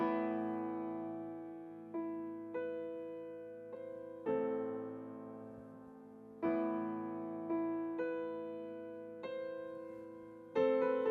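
A solo piano plays the opening of a chamber piece in a lecture setting: about eight separate chords or notes struck at a moderate pace, each ringing out and slowly decaying, with no talking.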